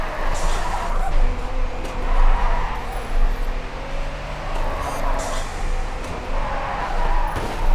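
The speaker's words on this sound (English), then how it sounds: "Points are awarded for the depth of your drift." Tires skid and squeal as a car drifts sideways around corners in a racing video game, a steady engine and scrubbing roar running the whole time with swells as each slide deepens.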